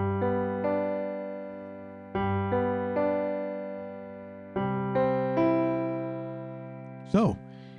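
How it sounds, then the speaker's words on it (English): A piano accompaniment played as broken chords and arpeggios: notes struck in clear groups that ring and fade, close and moderately soft, ending with a brief higher sound. "playing some broken chords, some arpeggios"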